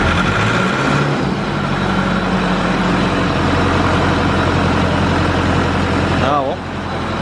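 A Mitsubishi Evo 5 engine with a fuel problem runs roughly at a steady, loud, droning idle for several seconds, with an uneven note underneath and a brief wavering change near the end.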